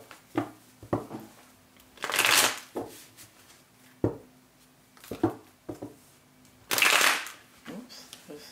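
Tarot cards being shuffled by hand, two longer riffling bursts separated by short taps and slaps of the deck, close and crisp with no talking.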